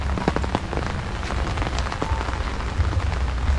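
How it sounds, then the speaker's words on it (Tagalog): Rain falls steadily on an outdoor surface at a work site, a dense, even patter of drops close by with no talk. "Maulan."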